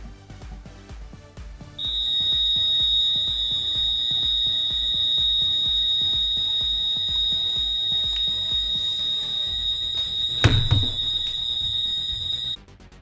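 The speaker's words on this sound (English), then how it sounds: "The building's fire alarm just went off." A building fire alarm blares a continuous high-pitched electronic tone, loud and steady for about eleven seconds, with a brief thump near the end before it stops.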